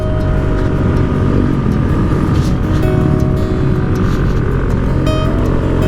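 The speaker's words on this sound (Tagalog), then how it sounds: "Pinipiga ko na yung motor pero nahihirapan pa rin umakyat." A motorcycle engine drones loud and strained throughout, a dense steady roar with a rising whine as it labours up a steep mountain trail toward Uraya's Peak in Davao del Norte.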